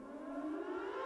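A civil defense siren wails as a steady, sustained tone with a faint slow rise in pitch, loud and continuous with no voices over it.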